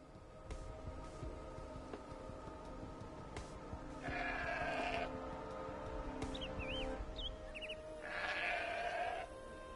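Sheep in the Age of Empires video game give two short synthetic bleats a few seconds apart, clear over a low steady game hum, with small chirpy interface blips in between.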